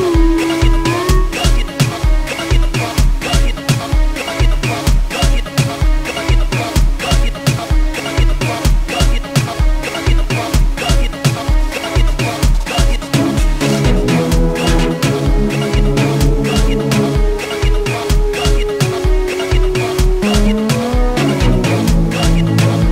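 A full gqom track with a deep bassline, steady driving drum hits and layered synth parts that change midway, playing loud and continuous throughout with no talking.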